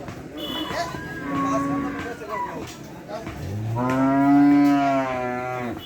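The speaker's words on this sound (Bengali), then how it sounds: "অসংখ্য গরু উঠছে হাটে।" Cattle low at a crowded rural cattle market before Eid sacrifice, one long loud close moo rising over background chatter and earlier fainter calls, with people talking nearby.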